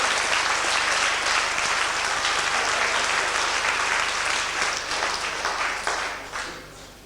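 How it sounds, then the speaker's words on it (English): A school hall audience at an evening magic show at Manchester Grammar School gives sustained, loud applause, a dense wash of clapping that holds steady for several seconds before thinning out at the end. "Give them a big round of applause, ladies and gentlemen."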